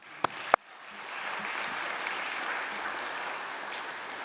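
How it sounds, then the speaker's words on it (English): A couple of sharp claps, then a conference panel audience breaks into sustained applause that swells and holds steady. "let's give them a round of applause"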